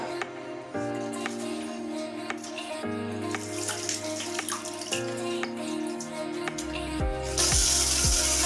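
Tap water runs steadily while ground meat is rinsed and cleaned in a kitchen, with music playing throughout and the flow growing louder and splashier near the end.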